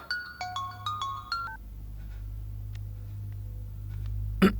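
An electronic phone ringtone in a Hindi-dubbed action movie plays a quick chiming melody of repeated tones, then stops, leaving a low steady hum and a brief click at the end.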